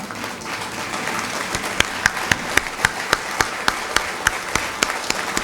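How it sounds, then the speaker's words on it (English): A standing audience at an MBA cohort inauguration ceremony gives a long round of applause, with sharp, evenly spaced claps ringing out in a steady beat above a continuous wash of clapping. "I request all of you to stand, give them a long applaud"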